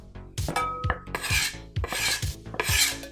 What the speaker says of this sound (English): So as the butter sticks to your rolling pin, just scrape it off with your bench scraper